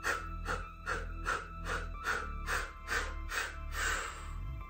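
Repeated breathy exhales during a children's breathwork exercise, about nine soft rhythmic pulses roughly every half second over a steady low background hum, no talking.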